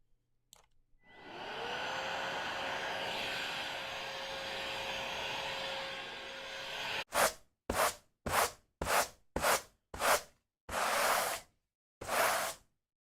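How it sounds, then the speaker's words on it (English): A vacuum cleaner hums steadily for several seconds, then breaks into a series of short, regular bursts as the motor cuts in and out, like strokes of hoovering and sweeping. "the hoovering, the sweeping, I know what it's like"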